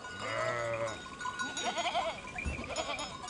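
Sheep bleat at a livestock market in Iran, several loud nearby calls one after another with a brief low thump between them.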